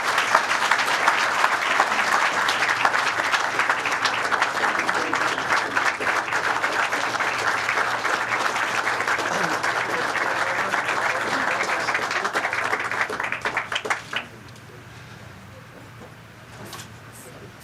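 An audience applauds a governor at a construction-start event for a Taste NY welcome center on Long Island, a loud sustained clapping for about fourteen seconds that cuts off abruptly into quiet room noise.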